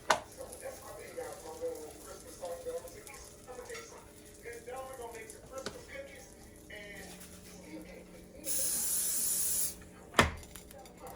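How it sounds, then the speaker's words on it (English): A steady hiss of cooking spray on a waffle griddle lasting about a second, following quieter kitchen clatter and faint talk, then a sharp knock. "go ahead and spray this down"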